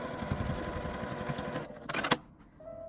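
A sewing machine runs in a quick rattling burst while stitching a fabric tent pouch, then slows to a few separate clicks and stops, leaving quiet.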